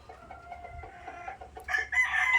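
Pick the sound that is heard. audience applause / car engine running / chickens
chickens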